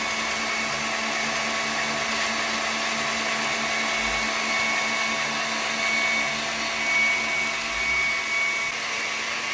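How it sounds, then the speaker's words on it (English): Electric mixer beating butter for a lemon cake, a loud steady motor whir with a constant hum, running continuously on its own. "you can see the butter as it's being mixed there in the mixer"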